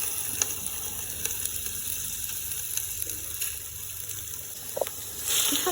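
Potatoes and mixed vegetables frying in a shallow layer of oil for a vegetable soup, a faint steady sizzle with small pops and occasional stirring clicks, close by and without talk.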